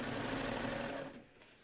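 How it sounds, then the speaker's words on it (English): A serger runs a four-thread stretch stitch along a fabric edge, a steady close whir that carries for about a second before stopping and fading to quiet. "So I'm just gonna sew right along the edge."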